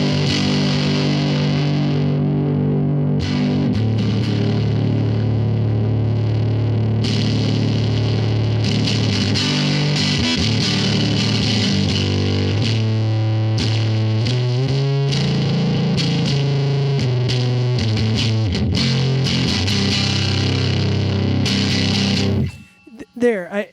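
A Greer Soma 63 pedal drives a distorted guitar amp with treble and bass maxed while the presence control is gradually raised from minimum to maximum, with loud sustained riffing and chords that grow brighter before cutting off abruptly.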